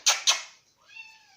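Two short, sharp cat meows in quick succession, close by, as the cats are fed rabbit and duck food, followed by a softer, drawn-out mew.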